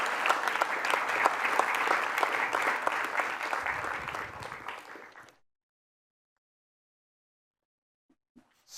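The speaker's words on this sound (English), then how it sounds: "I'm going to invite you to give them a round of applause as they all come up" A conference audience applauds as a panel on ethical and green AI walks onstage, loud steady clapping for about five seconds that stops abruptly, followed by near silence with a couple of faint knocks.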